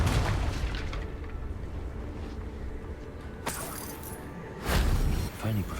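A Confringo fire spell bursts in Hogwarts Legacy with a sudden booming blast, then a second heavy explosion follows shortly after over busy game noise.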